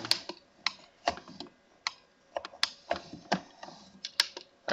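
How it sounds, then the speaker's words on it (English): Sharp plastic clicks from controller gear-shift paddle buttons during a racing game, arriving singly and in quick pairs at irregular intervals, close and fairly loud with no talking. "all you can hear is like the clicking of the buttons, but that's how I have to change gear"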